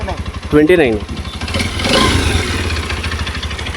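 A 300 cc motorcycle engine runs close by, a steady low idle that swells into a brief rev midway, with someone speaking over it at the start.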